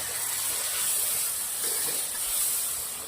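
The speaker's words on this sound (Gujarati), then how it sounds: "ગ્રેવીને સરસ ઉકળવા દઈશું" Cream gravy boiling in a pan for a cauliflower and paneer curry, a steady close hiss and sizzle with a soft bubbling texture, continuous and without speech.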